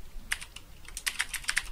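Quick, light clicks of typing on a computer keyboard in a short burst of keystrokes, close and fairly quiet.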